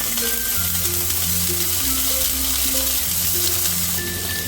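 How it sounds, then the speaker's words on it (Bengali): Paneer pieces fry lightly in hot white oil with a continuous, even sizzle at close range, over a faint steady hum; no one speaks. "আমি পনিরগুলোকে হালকা করে ফ্রাই করে নেব"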